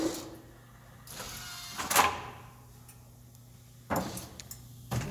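A mini bowling lane's pinsetter running a pin-setting cycle, a quiet mechanical whir with a few sharp clacks and knocks spaced about two seconds apart, no talk.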